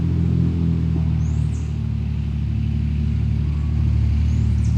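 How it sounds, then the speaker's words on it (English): A truck's low engine rumble drones steadily as it passes outdoors in nature, fairly loud and close, with faint birdsong high above it. "So as that truck starts to fade into the background"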